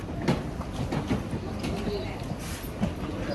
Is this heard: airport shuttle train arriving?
yes